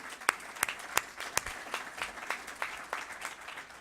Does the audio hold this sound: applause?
yes